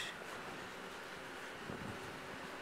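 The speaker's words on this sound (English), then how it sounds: "Wind's starting to pick up a little bit" Steady wind on a city shopping street on a December evening, a continuous broad rushing with gusty buffeting against the microphone and no talk.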